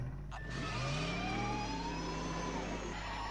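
A car engine revs in the Back to the Future video game, rising and falling in pitch as it accelerates. It rings out loud and continuous alongside the game's other sounds, with no talk.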